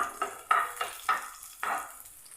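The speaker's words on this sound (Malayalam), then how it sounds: "അതും കൂടെ നെയ്യിലേക്ക് ഇട്ടിട്ട് ഒന്ന് റോസ്റ്റ് ചെയ്തെടുക്കാം" Chopped dates being stirred and roasted in hot ghee in a pan for a Malayalam banana sweet, with a steady sizzle and several scraping stir strokes at a close, moderate level and no talk.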